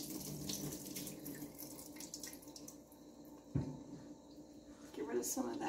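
Whey pours from a pan into a kitchen sink during goat milk chevre making, a running, splashing wash of liquid that rises toward the end, with a faint clunk partway through.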